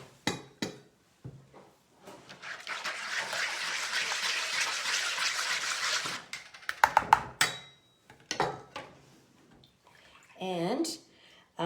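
Two cups of warm water poured into a bowl for raisin bread dough, a steady splashing pour lasting a few seconds, followed by clinks of dishes and utensils in a kitchen, with a person speaking nearby.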